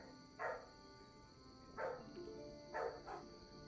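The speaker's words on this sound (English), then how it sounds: "Fast Steps have a new puppy." A new puppy yapping in three short, separated barks over a steady background hum, each bark moderately close and fairly faint, with no other voices present.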